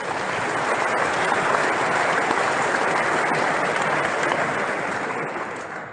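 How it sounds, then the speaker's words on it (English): Dense, continuous clapping, loud and even, swells and holds for several seconds before easing slightly at the end, with no voices standing out. "let's give him a big round of virtual applause"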